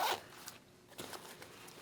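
Zipper on a pocket of an Alpinestars GP Force V2 two-piece leather race suit, a short, close ripping zip at the start followed by a few faint rustles and clicks, quiet and without talk.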